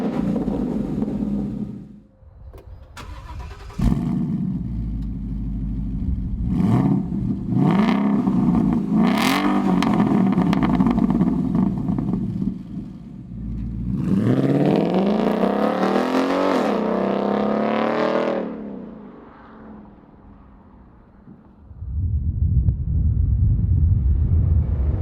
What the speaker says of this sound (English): Now this is the sound I would have expected from a Roush exhaust.